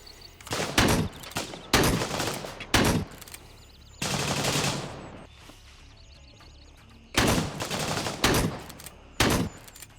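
A shotgun fires repeatedly in the video game Gray Zone Warfare, with loud, close blasts arriving in uneven bursts separated by quieter gaps.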